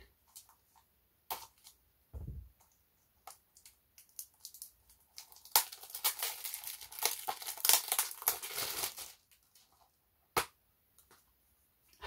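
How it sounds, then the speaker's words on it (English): Scissors cut open Wonder Boy Returns Remix game packaging, up close and quiet: scattered snips and clicks, then a burst of crinkling, tearing plastic wrap, then a few more sharp snips. "I'll just use the scissors again,"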